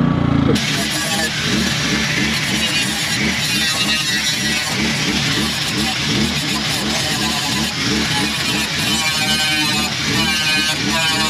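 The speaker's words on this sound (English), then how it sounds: "the generator's still on actually. Like I said, it runs a little rough" A petrol generator runs rough nearby, a loud, continuous engine drone with an uneven, pulsing chug that carries on unbroken throughout, with a voice talking over it.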